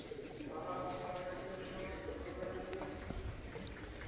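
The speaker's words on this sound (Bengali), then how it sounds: "দেখ কি সুন্দর পায়রাগুলো খাচ্ছে" Pigeons feeding at a Shiva temple in Purulia, their soft cooing faint among a busy murmur of visitors and background chatter.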